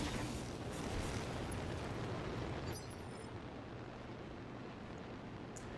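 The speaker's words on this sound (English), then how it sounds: "Firing a full salvo." A mech's full weapon salvo in a video game, heard as a dense roaring blast of noise that holds steady for almost three seconds and then drops to a lower rumbling wash.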